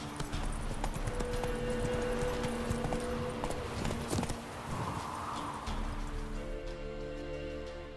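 Roach, a horse in a video game, moves with steady clip-clop hoofbeats under a continuous background of ambient sound and music, with no talking over them.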